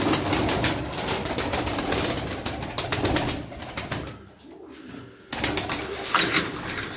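Pigeons coo repeatedly and close by in a loft, their soft rolling calls overlapping with wing flutters, broken briefly by a quieter pause before the cooing resumes.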